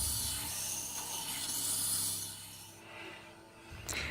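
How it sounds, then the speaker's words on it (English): A knife edge is ground on a Tormek sharpening machine wheel, giving a continuous close hiss and rub that fades toward the end before a brief knock, with no voices. "Having ground one side, then just turn the jig around and grind the other side."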